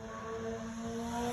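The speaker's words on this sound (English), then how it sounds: "Stupid motorcycle coming." A motorcycle coming up behind a car, a steady engine drone with sustained tonal whine at moderate distance, holding even without a clear peak.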